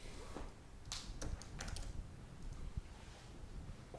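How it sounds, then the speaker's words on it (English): Typing on a computer keyboard, a handful of sharp key clicks clustered in a short burst, very faint and close over a low room hiss, no speech. "let's type it here."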